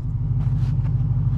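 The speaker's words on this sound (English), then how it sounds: "Let's take this Hellcat for a spin" Dodge Challenger Hellcat engine idling with a deep, steady rumble, loud and close, brief and unbroken.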